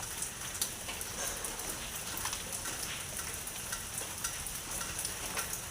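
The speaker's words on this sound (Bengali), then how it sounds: "কন্টিনিউ বৃষ্টি চলছে" Steady rain falls continuously, a dense even patter with occasional sharper drops, with no voices.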